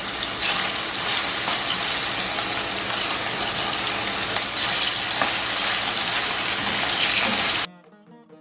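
Fish pieces frying in hot oil for a fish pickle give a loud, steady crackling sizzle that runs unbroken for several seconds before suddenly cutting away.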